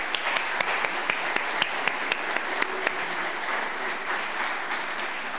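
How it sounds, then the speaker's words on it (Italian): An audience at an award ceremony celebrating an engineering management department's tenth anniversary applauds steadily. A few sharper nearby claps stand out regularly above the sustained crowd clapping. "Un applauso per Massimo."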